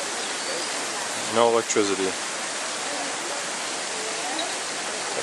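Water rushes steadily through a hydraulic water-pressure system in Italy, a dense, loud and constant flow heard throughout, with a brief spoken phrase over it.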